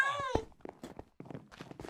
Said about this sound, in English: except for their annoying meows